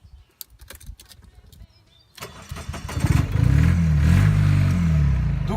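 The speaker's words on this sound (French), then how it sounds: "Ce que je vous propose, c'est d'entendre le moteur maintenant." A small Microcar Highland X microcar engine sputters and catches after a few clicks, then settles into a loud, shaky, rattling idle close by.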